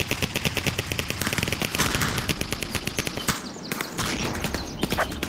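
Rapid automatic gunfire with bursts of single shots in a shooter video game, loud and dense, close bursts rattling almost continuously with brief pauses.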